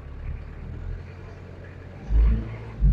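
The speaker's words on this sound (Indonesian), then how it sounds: "Coba kita gas. Dieselnya halus banget masih." A 2003 Daihatsu Rocky diesel engine idles with a low rumble, then climbs in a throaty rev, drops back and revs again at the end.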